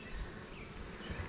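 Honeybees buzz around an open hive with comb full of honey, a faint, close, continuous insect hum alone for just over a second.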